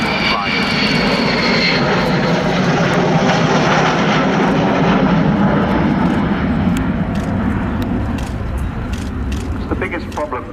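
Avro Vulcan XH558, a delta-wing jet bomber, passes close at an air display with a loud, sustained engine roar that slowly eases off, while people talk over it.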